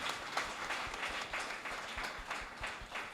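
Audience applause at a PMC meditation event, a steady wash of many hands clapping throughout at moderate distance, dense and continuous with no speech over it.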